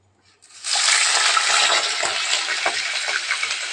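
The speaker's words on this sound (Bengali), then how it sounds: "চিংড়ি মাছটা একটু ভালো করে ভেজে নেবো একটু করে।" Prawns hit hot oil and erupt into a sudden, loud sizzle that settles into steady close frying with occasional popping crackles.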